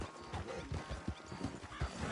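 A horse acting up during a race in Red Dead Redemption 2, with clopping hooves and restless snorting and whinnying close by over a dense noisy background.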